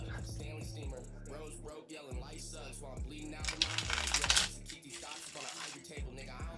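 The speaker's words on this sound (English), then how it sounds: "I love how these pot tarot cards feel. They shuffle really well." Tarot cards are shuffled by hand in a crisp, papery riffling burst that rises midway, over steady hip-hop music playing throughout.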